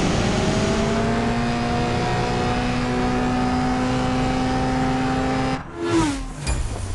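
A Hyundai Veloster tuned by ARK Performance revs hard in a CSR Racing 2 drag race, its engine whine rising steadily and loud, then breaking off with a sharp gear change and a renewed surge.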